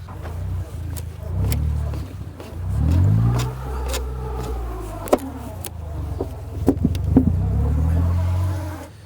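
A car engine strains and revs while being pushed forward after getting stuck during a motorsport outing, a steady low rumble rising and falling across the stretch with a few sharp knocks near the end.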